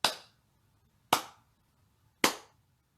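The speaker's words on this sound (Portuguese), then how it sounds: "eles batem 3 palmas" Three sharp, evenly spaced hand claps, about a second apart, ring out alone in a quiet space, each crisp strike decaying quickly, like the rhythmic claps some Mozambican worshippers give at the consecration during Mass.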